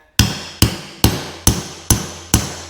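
Six sharp metallic hammer blows strike a punch to set a grommet in a strap, evenly spaced about half a second apart, loud and close with short ringing decays.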